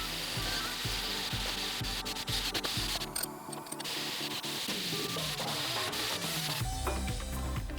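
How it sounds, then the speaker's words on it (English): A wire brush scrubs the lower fork of a crashed 2010 Honda Accord in a workshop, giving quick repeated rasping strokes at a steady rhythm, close and moderately loud, with no voices. "So we're going to use a wire brush to clean it off and make it look like brand new."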